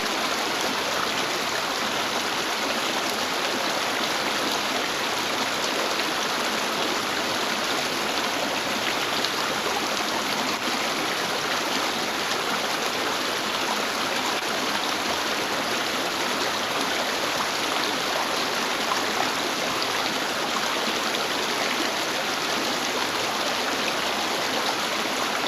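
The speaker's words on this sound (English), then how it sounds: "Plenty of animal species were making the most of the flowing water." Water flows steadily in a stream in Kruger National Park, a continuous even rush that carries on alone without any voices.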